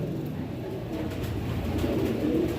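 Pigeons on a rooftop cooing softly and steadily against a low, continuous background rumble, with no clear voices.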